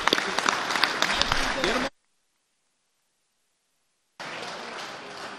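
Applause fills the Missouri House of Representatives chamber in a dense, steady burst, then cuts off to silence before the clapping resumes.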